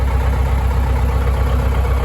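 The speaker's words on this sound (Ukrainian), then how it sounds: "завів я тракторця" A YuMZ-6 tractor engine idles just after starting, a steady low rumble with even pulsing throbs, close and continuous.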